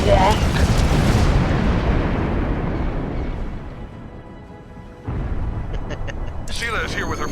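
Heavy space bombardment explosions from a starship battle in Star Trek Online, a loud roaring boom that slowly decays over several seconds, then a fresh rumbling blast with bright crackling debris near the end.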